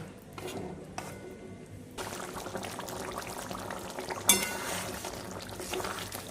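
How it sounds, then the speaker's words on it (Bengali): Katla fish simmers in curry gravy in a pan: a steady, soft bubbling and sizzling hiss that grows busier partway through, with one brief clatter. "মাছটা দিয়ে এবার একটু ফুটিয়ে নেব।"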